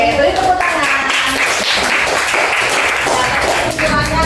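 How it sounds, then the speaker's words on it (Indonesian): Classroom applause from students, a dense patter of clapping with a few voices mixed in, steady and fairly loud throughout. "Oke, beri tepuk tangan."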